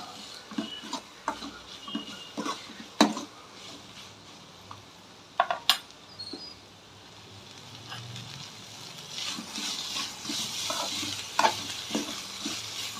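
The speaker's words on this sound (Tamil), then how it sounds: "வெங்காயம் வதங்கட்டும் நல்லா." Onions sauté in a pan, giving a low steady sizzle with intermittent spoon scrapes and a few sharp metallic knocks, which give way to a denser, louder frying hiss near the end, close and with no talking.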